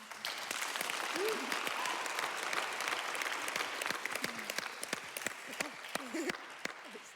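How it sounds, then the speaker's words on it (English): An audience at a talk on racism and health claps steadily throughout, a dense patter of many hands with a few voices speaking over it. "Yeah, clapping. That's clapping."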